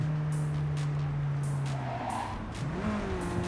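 A car drives in Cyberpunk 2077, its engine droning steadily with tires squealing and skidding through turns, the pitch shifting as it accelerates, with no talking.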